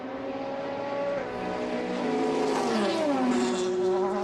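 Race cars at the 2012 Le Mans race scream through the Porsche curves, their high engine notes rising and then sliding down in pitch as they pass close by.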